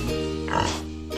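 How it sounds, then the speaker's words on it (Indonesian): A pig gives one grunting oink, a harmonic-rich squeal peaking midway over a steady tonal background, close and clear. "babi"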